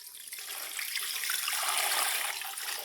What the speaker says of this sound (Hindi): और अब हम इस पॉइंट पे इस पर पानी की एडिशन कर देंगे।